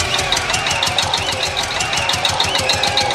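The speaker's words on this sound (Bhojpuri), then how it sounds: "जनरेटर चला था।" A generator engine runs close by, a loud, steady mechanical drone with a rapid regular chugging pulse throughout.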